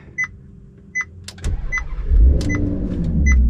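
A Maserati GranTurismo MC Sport Line starts up. Several soft chimes and a brief whirring are followed by the starter catching, and then the engine settles into a deep, steady idle that sounds close and loud.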